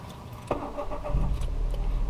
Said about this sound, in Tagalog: Start ulit yung makina.